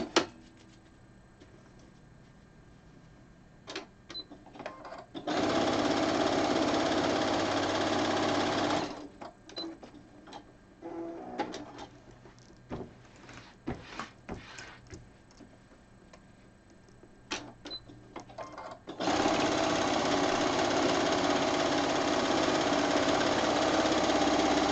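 A sewing machine free-motion quilting a quilt runs in two loud, steady bursts of rapid stitching, broken by quieter stretches of scattered ticks and clicks.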